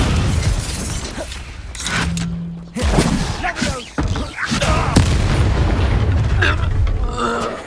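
Confringo fire spell explosions in the Hogwarts Legacy video game, several loud booming blasts and crackles in quick succession amid battle effects, with a character's voice shouting over the action.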